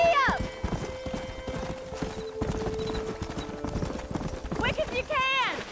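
In the Red Dead Redemption video game, a horse gallops with fast, close clip-clop hoofbeats, whinnying at the start and again near the end. A shout is heard over the hooves.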